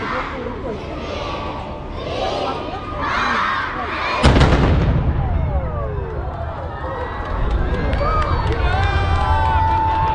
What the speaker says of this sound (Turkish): Tüm bu kalabalık işte o top atışını bekliyor. Top atışı da şurada yapılacak.